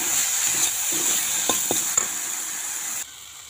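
Food sizzles and fries steadily in a pan while a utensil stirs it, with a few sharp scraping knocks against the pan; no one speaks.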